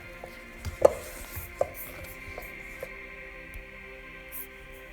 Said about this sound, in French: Pour l'instant, on ne fait que mélanger.